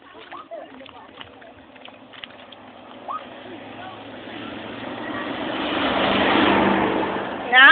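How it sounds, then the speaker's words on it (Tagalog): A car approaches and passes on a road during a walk, its engine noise swelling from faint to loud over several seconds and peaking near the end, with people talking throughout. "may sasakyan!"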